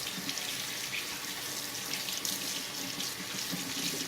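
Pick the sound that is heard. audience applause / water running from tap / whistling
water running from tap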